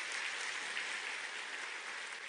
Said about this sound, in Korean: 여러분들 자신에게 박수를 한번 보냈으면 좋겠습니다